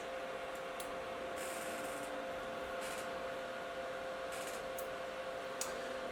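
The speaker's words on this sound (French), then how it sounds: "L'impression vient de démarrer." A steady mechanical hum with soft whirring tones and occasional faint ticks and hisses from an Anycubic Vyper 3D printer running quietly nearby.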